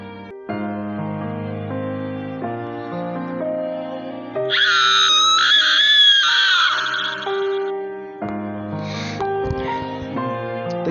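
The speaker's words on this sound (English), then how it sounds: "As the ropes whisk her off, she lets out an English scream." A girl lets out a long, high, piercing scream in the middle of a music-backed scene, rising loud above the sustained instrumental tones before trailing off.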